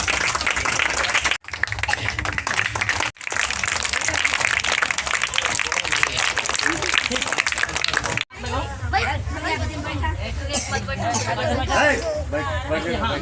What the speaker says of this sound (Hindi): सभी लोग ताली बजाएंगे।